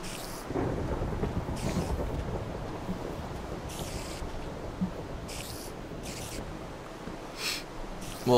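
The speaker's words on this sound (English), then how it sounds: "look at all the rain coming in" Steady rain pours in the game Minecraft, with rolling thunder rumbling low beneath it and periodic faint crackles, continuous and fairly loud throughout with no talking.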